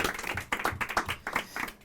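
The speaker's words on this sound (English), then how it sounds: "So let's give them a round of applause." Small audience at a panel discussion on the history of HIV in the UK giving a short round of applause, quiet, uneven clapping from a modest number of hands.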